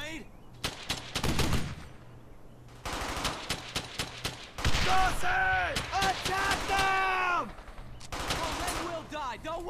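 Bursts of automatic gunfire and shots from the World War II shooter Brothers in Arms: Hell's Highway come in clustered volleys, mixed with loud shouted voices of soldiers.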